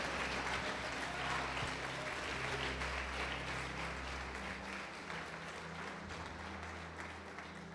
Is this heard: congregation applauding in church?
yes